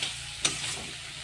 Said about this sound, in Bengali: লঙ্কা, হলুদ, জিরে গুঁড়ো, ধনের গুঁড়ো ভালো করে আর একটু নেড়ে নেব